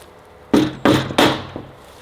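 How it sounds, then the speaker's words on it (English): A rubber hammer pounds a pressure washing trailer part into place with three heavy, dull thuds in quick succession, followed by a fainter fourth knock, close and loud with no voices. "Now you guys see why I brought a rubber hammer."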